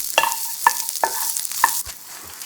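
Shishito peppers stir-fried in a pan with ginger, a soft sizzle under a few sharp metallic clinks of a utensil striking the pan, close and brief, no talking.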